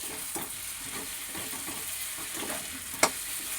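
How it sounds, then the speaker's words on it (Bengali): Chicken pieces sizzle steadily in hot oil in a pan, with soft stirring scrapes and one sharp clink of the spoon against the pan near the end. No voices are heard. "এবার এর মধ্যেই মাংসটা দিয়ে আমি কষবো।"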